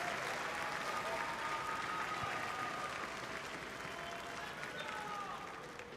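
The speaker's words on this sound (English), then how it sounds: "let me get one more big cheers and applause" A large arena crowd at the Call of Duty League Championship grand finals applauds and cheers continuously, dense clapping with scattered whoops filling the space throughout.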